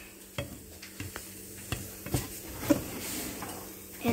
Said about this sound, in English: And stir it up again.